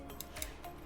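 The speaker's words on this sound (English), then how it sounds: "Snip your yarn." Scissors snip pale pink crochet yarn with a few quick, faint, close cuts in a quiet room.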